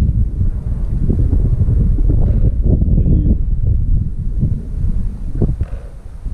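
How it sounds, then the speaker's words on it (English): Gusty wind outdoors at a waterside park buffets the microphone with a steady, loud low rumble that barely lets up. "It's kind of windy out here."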